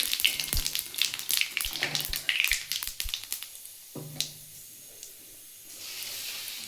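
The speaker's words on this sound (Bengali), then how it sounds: "তেলটা গরম হয়ে গেছে আমি ওর মধ্যে একটা শুকনো লঙ্কা চিড়ে দিয়ে দিয়েছি একটু সাদা জিরে দিয়ে দিলাম দিয়ে ফোড়নটা একটু ভালো করে ভেজে নেবো" A dried red chili and cumin seeds fry in hot oil, giving a burst of busy crackling and spitting with sharp pops that settles into a softer, steady sizzle, with no talking.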